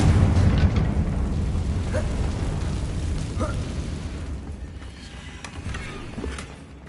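A Confringo fire spell explodes in Hogwarts Legacy, opening with a loud rumbling blast that slowly fades over several seconds, with a few small crackles and pops near the end.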